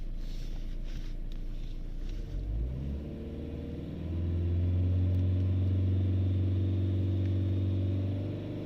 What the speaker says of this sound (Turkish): Şimdi bir gaz verelim.